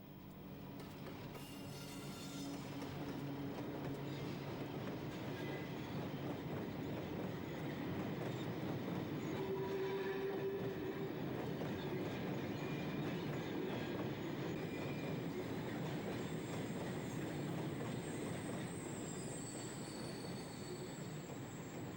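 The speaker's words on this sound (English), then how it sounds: "This is the late-running Foster Yeoman train comprising empties for Mere Head" A heavy Foster Yeoman freight train of empty wagons rumbles past steadily for over twenty seconds, its wheels squealing shrilly on the sharp curve onto the Romsey line, with a constant loud roar throughout.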